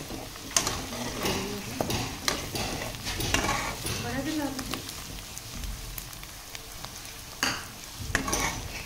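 Ginger garlic paste frying in a kadai with onions for dhaba-style kadai chicken, a steady sizzle with repeated scraping stirs and utensil knocks against the pan, close by, with some talk over it.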